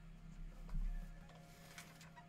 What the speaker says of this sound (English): There's something wrong with my printer.